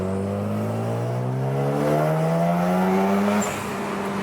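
A Mazda RX-7 FD accelerates hard while its turbo boost is tested, the engine note climbing steadily in pitch for several seconds before easing off, loud and close from inside the car, with no speech.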